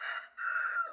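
A rooster crows nearby in one strained, drawn-out call with a brief break partway, fairly faint and alone, amid backyard chickens.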